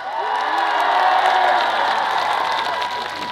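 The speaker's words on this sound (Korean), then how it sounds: "여러분 박수와 함성 보내주세요!" A large concert crowd at an outdoor Osan citizens' day show in a sports stadium roars with cheers, whoops and scattered clapping, a loud continuous wash that swells and then eases slightly toward the end.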